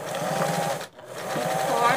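A domestic sewing machine stitching a seam on a simple rug, a rapid close mechanical chatter that pauses briefly and resumes, with someone talking over it.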